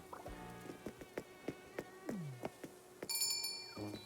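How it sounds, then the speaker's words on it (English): Mosquitoes whine in Animal Crossing: New Horizons, a thin high buzz under a series of soft regular game footsteps and clicks, ending in a bright chiming interface jingle. "Oh, I hate hearing the mosquitoes."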